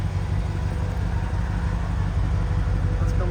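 A supercharged 2014 Ford Shelby GT500 Mustang with a six-speed manual idles nearby, its exhaust giving a steady low rumble that stays even and unbroken throughout with no voices over it.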